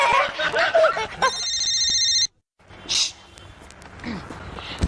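A telephone rings with a short electronic trill in a domestic sitcom scene, cutting in after laughter and talk, followed by a pause and more voices.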